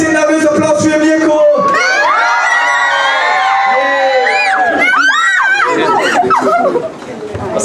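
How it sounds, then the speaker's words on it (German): A live tour crowd cheers and whoops for a performer named Mirko, a loud, excited mass of shouting voices and high whistling calls swelling across the whole stretch before dipping briefly near the end. "Applaus für Mirko!"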